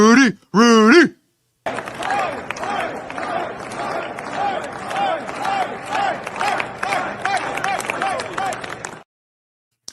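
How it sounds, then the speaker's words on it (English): A crowd gathered behind House Speaker-designate Mike Johnson chants and cheers his name in a loud, rhythmic, sustained roar for about seven seconds, preceded by a brief shouted voice. "Everyone's standing behind Mike Johnson, and then they started chanting. They started cheering his name."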